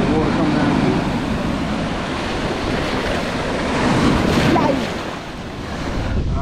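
Rough surf breaks on a beach shore in the Dominican Republic, a steady loud roar of churning waves with gusting wind across the microphone, swelling and easing slightly over a few seconds.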